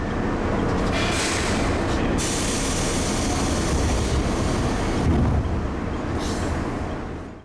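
A JR West 103 series six-car electric train rumbles steadily up close, wheels and motors droning as it slows in stages pulling into Hyogo station on the Wadamisaki Line, the sound easing off toward the end.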